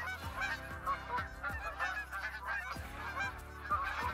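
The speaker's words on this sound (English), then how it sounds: "we got more geese circling" A flock of geese honks overhead during a goose hunt, with repeated loud overlapping calls that come and go in an irregular rhythm and no talking.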